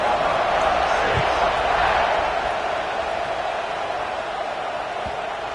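A football stadium crowd roars steadily before a kickoff against Miami, a dense, continuous wash of cheering that stays loud throughout and eases slightly toward the end.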